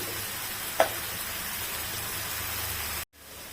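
Prawns and onions sizzle steadily in hot oil, a continuous bright frying hiss with a brief stir clink near the start, then an abrupt cut and quieter sizzling.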